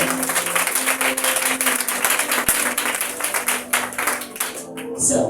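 A church congregation applauds and cheers for the king during a worship service, with steady, dense clapping and voices carrying on without a break throughout.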